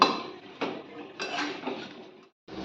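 Metal pot lid set back onto a cooking pot of vegetable pachan, a few light clinks and scrapes of metal on metal, close and moderately loud, ending in a brief silence before one more clatter.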